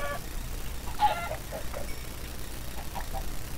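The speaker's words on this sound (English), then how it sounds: "Oh, there's chickens." Chickens cluck softly in a Minecraft jungle landscape, a few faint, brief clucks scattered over a low steady background hum.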